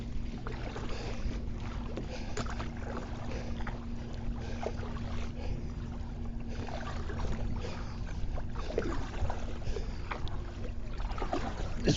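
Pelican Catch Mode 110 kayak, fitted with a skeg and motor mount, paddled with a long paddle on open water: steady water sloshing and paddle splashes with wind noise throughout, no talking.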